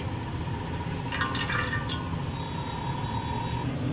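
Cooking oil is poured into a cooking pot for a dhaba-style chana dal fry, a soft steady liquid trickle and splash over a low background hum.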